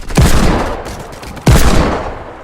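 Gunfire in the video game Fortnite: two loud, sharp shots about a second apart, each trailing off in a long echoing decay, with no talking.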